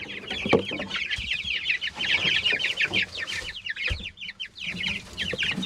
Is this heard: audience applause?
no